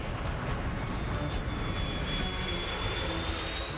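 An airliner's engines roar in a continuous loud drone during a landing attempt in bad weather, with a thin whining tone rising partway through. No one speaks.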